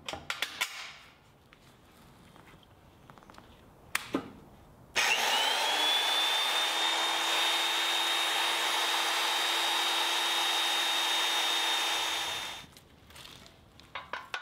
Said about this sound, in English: Drilling the other side